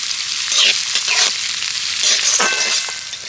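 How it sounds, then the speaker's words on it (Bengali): Chopped onion fries in hot oil in a pan, a bright crackling sizzle that swells and eases as it is stirred a few times, close up and without talk. "পেঁয়াজটাকে একটু সোনালি করে ভেজে নেব"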